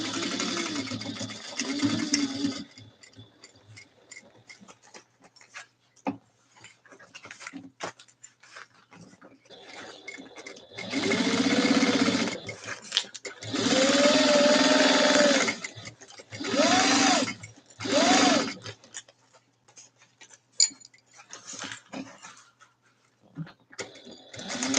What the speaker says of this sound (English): That bobbin's got to go like any second now.